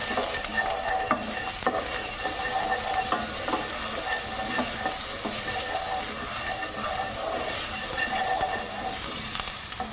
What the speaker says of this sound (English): Toss the garlic through there as well for some flavour.